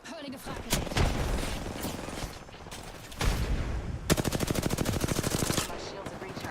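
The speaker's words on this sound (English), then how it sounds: "Okay, I'm getting shot at." Apex Legends gunfire: loud, close automatic bursts and single shots in rapid succession, including a long, fast, evenly spaced machine-gun stream near the end, with brief quieter gaps between volleys.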